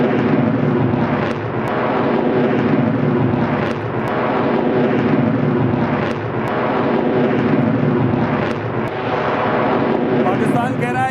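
A P-8I maritime patrol aircraft roars overhead with a loud, continuous jet-engine drone that swells and eases in slow waves, partly under a voice speaking.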